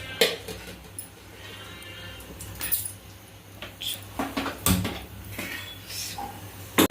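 Fenugreek seeds splutter in hot sesame oil in a pan while a Tamil fish curry is being made, giving scattered sharp pops and crackles over a faint frying hiss.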